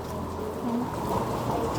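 Steady rain hisses throughout, a dense wash of falling water with faint bird calls and distant voices of shoppers at a market stall blending in.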